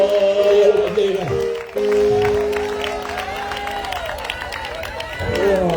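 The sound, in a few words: church congregation applauding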